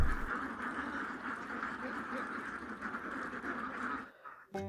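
Vaccinated laying ducks on a farm quack continuously as a dense, overlapping flock, fairly faint and steady before a sudden drop near the end.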